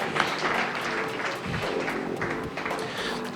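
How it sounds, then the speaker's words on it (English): Audience applause at a DICE gaming tournament prize announcement, a dense steady clapping crowd filling the whole moment with scattered louder claps, no voices on top. "Illusion, if you'll come up, big round of applause for him too."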